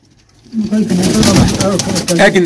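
Cheeny pigeons coo in low, rolling warbles close by, overlapping continuously as someone talks over them.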